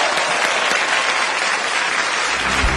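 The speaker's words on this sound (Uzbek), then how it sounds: "Bir olqish beraylik qiz yigitlar." Loud, dense applause from a wedding show audience, a sustained wash of clapping that holds steady throughout.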